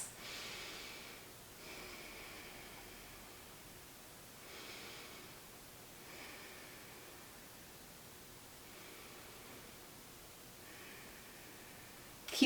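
Slow, deep breaths in and out during a guided stillness exercise, faint and close over a steady background hiss, with several soft airy swells spaced a few seconds apart.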